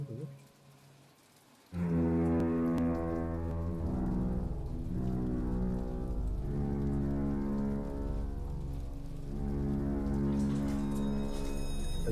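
Rain falls in the video game BioShock Infinite, a dense steady patter that starts abruptly and continues loudly with a low rumbling undertone, brief tonal game sounds rising near the end.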